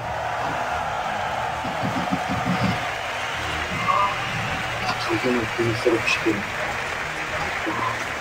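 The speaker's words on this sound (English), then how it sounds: "Just listen to that crowd." Crowd noise filling an esports arena at a Counter-Strike major in Krakow, a broad steady roar with scattered cheers and claps beneath a caster's talk.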